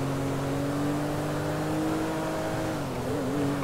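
A Benefactor sports car in Grand Theft Auto 5, modeled on the Mercedes-Benz SLS AMG, drones with a steady, loud engine note that holds a constant pitch, then wavers slightly near the end.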